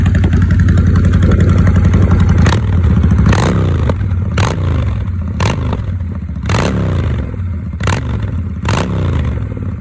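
A motorcycle engine idles loudly up close, with a steady rumble broken by several sharp throttle blips that rise and fall back to idle.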